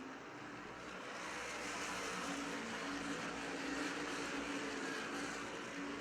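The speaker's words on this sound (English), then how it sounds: "now it seems to be up to speed as he races down the backstretch" A race car drones steadily at speed down the backstretch at Thompson Speedway during the 2021 World Series, its engine a continuous, fairly distant roar with a faint rise in loudness.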